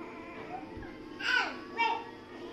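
An orange cat in an Indonesian village gives two short, high meows in quick succession, moderately close, against quiet background noise.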